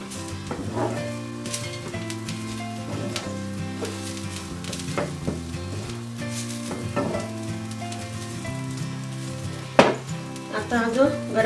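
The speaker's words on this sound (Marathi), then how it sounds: "आपण आता हे खोबरंही चांगलं फ्राय करून घ्यायचंय।" Grated coconut frying in a pan for a Maharashtrian val usal, a steady sizzle with stirring and scraping strokes, close up, over a background of tonal music.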